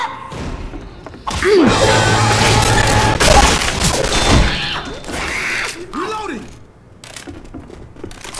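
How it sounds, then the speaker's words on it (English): A grenade blast in the zombie shooter Left 4 Dead 2 lands as a loud booming thud amid a busy burst of gunfire and game noise. Voices talk over the action. "Grenade."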